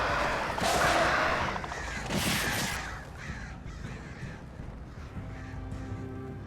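Loud, harsh crow caws from the video game Alan Wake burst close by in quick overlapping calls, then fade into a low, rumbling game ambience with no talking.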